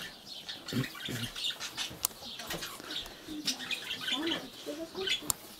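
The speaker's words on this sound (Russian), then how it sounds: "Смотри, какие попугайчики видели, да?" Small parakeets chirp in a quick, scattered series of high tweets and peeps, close by and fairly faint, with brief rustles and soft voices talking nearby.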